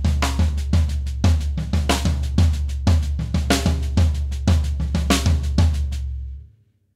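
A drum fill played with split paradiddle sticking and an accented right-hand lead, a dense run of rhythmic snare and tom hits with low kick thumps that stops abruptly near the end.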